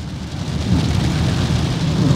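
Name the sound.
rain and thunder at 4 a.m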